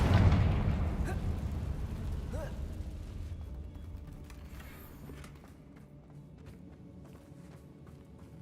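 Confringo fire spell blasting in Hogwarts Legacy, a loud explosive burst at the start that rumbles and fades away over several seconds, with a faint later pop and a brief voice.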